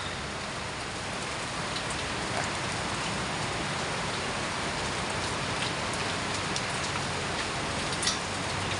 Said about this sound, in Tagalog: Yan, ulan na talaga.